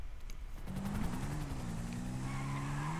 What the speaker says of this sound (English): I got ran over by a car.